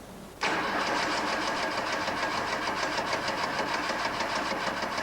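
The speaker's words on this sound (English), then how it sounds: "With the engine cranking, you will see a spray of fuel for a set length of time" A Fiat engine with Jetronic fuel injection cranks and catches, an abrupt start after a short quiet moment, then settles into a loud, steady, rhythmically pulsing run, close by with no talk.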